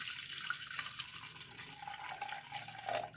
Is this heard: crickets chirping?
no